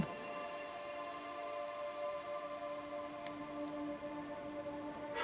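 Steady, soft rain in a video game, pattering quietly and evenly throughout beneath a faint sustained musical hum, with no talking.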